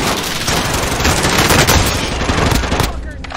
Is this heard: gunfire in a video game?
yes